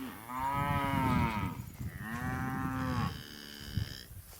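Cows with nursing calves low on a farm pasture, two long drawn-out moos in succession followed by a shorter call, loud and fairly close with no talking.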